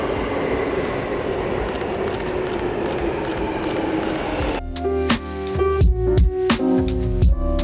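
London Underground Jubilee line train pulling into a station, a broad rumbling roar that gives way to rhythmic clattering wheels and squealing, growing louder and closer toward the end.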